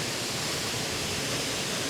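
Water from a waterfall in Iceland pours down in a constant broadband rush, a steady hiss of spray and falling water with no pauses or voices.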